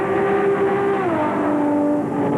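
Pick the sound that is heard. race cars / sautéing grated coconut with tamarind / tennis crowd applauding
race cars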